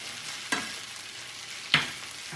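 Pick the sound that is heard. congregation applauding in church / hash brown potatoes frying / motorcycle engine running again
hash brown potatoes frying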